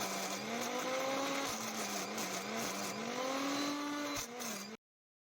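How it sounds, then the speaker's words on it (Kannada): A kitchen mixer grinder runs without water, grinding okra chutney ingredients with coriander and curry leaves. Its motor gives a steady, loud whirring hum that wavers slightly in pitch for several seconds and then stops abruptly. "ಸೇರಿಸ್ಕೊಂಡು ಮಿಕ್ಸಿಗೆ ರುಬ್ಕೊಳ್ಳೋಣ"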